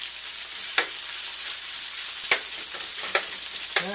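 Bacon frying in a pan, a bright continuous sizzle with a few short stirring scrapes, close and loud, with no voices.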